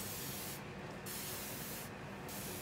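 Two short hissing spritzes from a spray bottle, evenly spaced, over a quiet background hiss.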